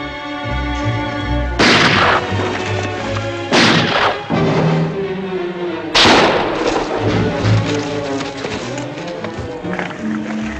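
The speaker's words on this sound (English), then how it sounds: "Let's hope they're not close enough to hear those shots." Gunshots ring out in three loud, heavy blasts spaced a couple of seconds apart, each booming over a continuous orchestral music bed with no talking.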